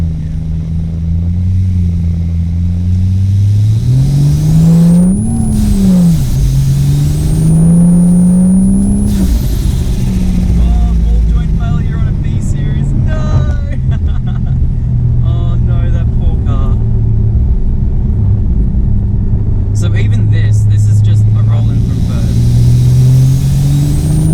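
A turbocharged 620 hp Ford Falcon engine revs and accelerates hard, pitch climbing through gears, loud and close, with a rushing whoosh and a voice talking over parts of it.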